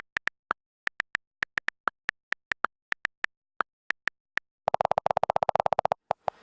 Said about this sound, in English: iOS 10 also comes with new keyboard sounds, which have different tones depending on which key you're striking.